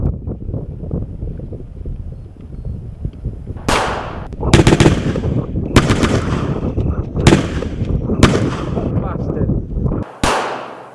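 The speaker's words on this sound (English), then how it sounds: "Pull that back, point and fire." Loud, close gunshots from a handheld gun in a short film, five or six sharp cracks at uneven intervals over a rumbling, windy outdoor background.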